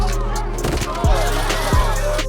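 Sharp gunshot effects crack out twice with about a second between them, each a loud, punchy blast over a dramatic music bed.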